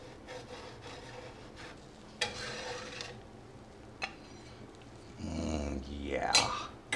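Baked chocolate chip cookies scraped loose from a baking pan, giving short rasping rubs and scrapes in a few bursts, with one louder scraping stretch near the end, close by.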